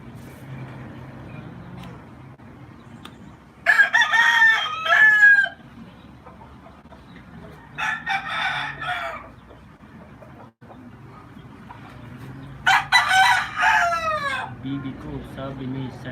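Roosters and chickens crowing outdoors on an overcast afternoon, three loud drawn-out crows at intervals, with faint clucking and a low rumble of passing vehicles underneath.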